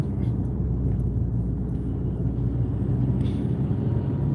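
An old, battered truck gives off a continuous low engine rumble at moderate loudness, steady from start to finish with no clear rise or fade.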